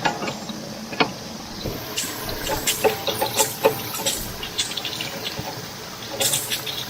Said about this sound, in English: You see the water coming out, hitting the cups and then shooting backwards